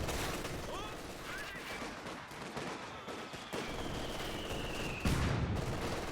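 Rifle volleys and mortar fire from the WWII strategy game Company of Heroes 2 crackle continuously in a dense, distant wash, with a heavier thump near the end, under a commentator's talk.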